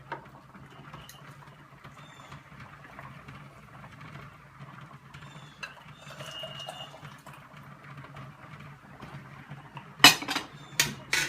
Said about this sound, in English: I got my ladle. Actually moving it